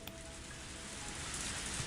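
Steady rain pours down in the Higurashi Tatarigoroshi game scene, a dense, even hiss that holds from start to finish and grows slightly heavier toward the end, with no voices present.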